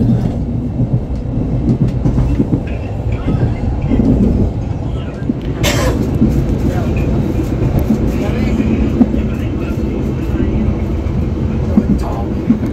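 KA Brawijaya passenger train rolling on rails in Indonesia near Cirebon, a loud steady low rumble with faint wheel clatter heard from inside the carriage, with someone talking over it.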